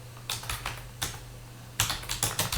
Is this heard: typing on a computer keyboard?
yes